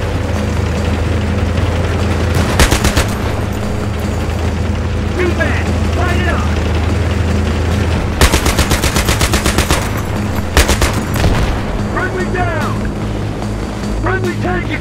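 Tank cannon blasts and machine-gun fire in Battlefield 3 during an M1A2 Abrams tank mission: heavy booms and rapid rattling bursts over a constant low engine rumble, with voices talking over the action.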